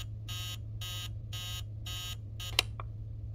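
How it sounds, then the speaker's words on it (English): An alarm clock in the horror game Emily Wants To Play Too gives five evenly spaced electronic buzzing beeps over a low steady hum, then a sharp click as it shuts off. "Dumb alarm."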